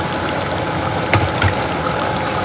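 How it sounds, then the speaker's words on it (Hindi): Hot water poured from a kettle into a simmering black chickpea curry in a home kitchen, a steady close trickle and splash with a couple of brief louder glugs. "बस थोड़ा सा पानी ऐड करेंगे,"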